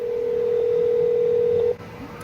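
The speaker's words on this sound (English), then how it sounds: "So you're calling your cell phone right now." A steady telephone dial tone hums alone for under two seconds from a handset calling a cell phone, then cuts off abruptly, leaving faint background noise.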